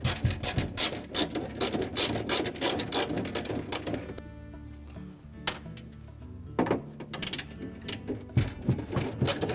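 Quarter-inch nut driver backing two screws out of a refrigerator's top air vent, with repeated close ratcheting clicks and rubbing mechanical sounds that pause briefly midway and then resume.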